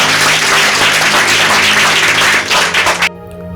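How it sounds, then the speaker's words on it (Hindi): A church congregation at a Hindi-language worship service gives loud, sustained applause. The dense clapping lasts about three seconds and then stops abruptly. "एक जोरदार ताली परमेश्वर के वचन के लिए बजाएंगे हम।"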